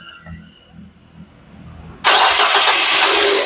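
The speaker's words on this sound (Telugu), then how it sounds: "సింగిల్ సెల్ఫ్లో కార్ స్టార్ట్ అయితే ఎటువంటి స్టార్టింగ్ ట్రబుల్ అయితే లేదు" A 2011 Nissan Sunny XL fires up on a single crank after a quiet pause, its engine catching abruptly and settling into a loud, steady idle close at hand.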